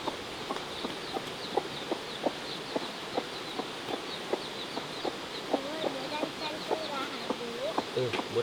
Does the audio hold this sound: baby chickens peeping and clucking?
yes